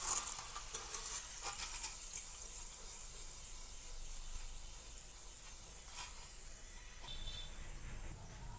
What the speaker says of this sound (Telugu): అలాగే మిగతావి కూడా ఫ్రై చేసుకోవాలి ఇవి కూడా గోల్డ్ కలర్లోకి వచ్చేంత వరకు ఫ్రై చేసుకోవాలి